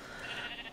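A sheep bleats in the Minecraft video game, a single short wavering bleat heard on its own at a moderate, somewhat distant level.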